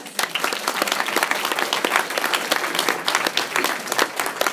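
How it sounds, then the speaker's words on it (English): A town hall meeting crowd applauds steadily, dense clapping from a room full of people, close and sustained without talk. "can we just give them one more round of applause?"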